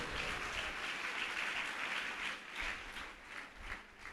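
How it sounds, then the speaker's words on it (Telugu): Church congregation clapping loudly in praise, a dense sustained burst of many hands in an uneven rhythm heard from a short distance, no voices. "గట్టిగా చప్పట్లు కొట్టి ప్రభువును స్తుతించండి."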